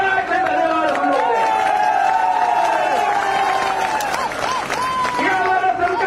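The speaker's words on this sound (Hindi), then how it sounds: "तालियों की गड़गड़ाहट से धन्यवाद हम लोग।" A crowd at a political rally in Porsa, Morena, with a politician, breaks into applause and cheering, loud and sustained, with voices shouting and a tonal chant or music running beneath the clapping.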